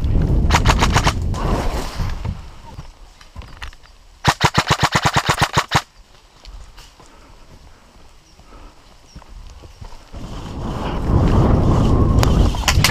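Video game gunfire from an SSR-15 prototype rifle sounds in loud bursts, including one long rapid-fire volley in the middle, with quieter ambient noise between the shots.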